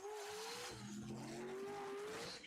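Drag racing cars, a Camaro and an S10, launch side by side at a streetcar shootout with a sustained loud engine roar and tire squeal, fairly distant and continuous.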